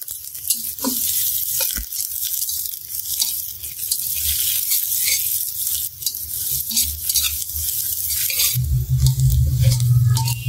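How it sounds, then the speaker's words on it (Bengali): Onions frying in a pan for a vegetable and egg chow mein, a steady loud sizzle with stirring scrapes throughout, swelling into a heavier, fuller sizzle near the end, with no voices. "পেঁয়াজ ভাজতেছি"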